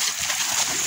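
Heavy rain pours down outdoors during the monsoon, a dense, hissing spatter of drops striking water and ground close by, steady and unbroken with no voices.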